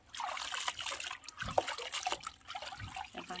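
Leafy green vegetables are swished and rinsed in a basin of water, giving soft, irregular trickles and splashes close by, fairly quiet with no talk.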